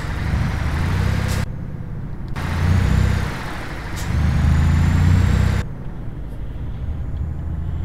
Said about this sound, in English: put the handbrake on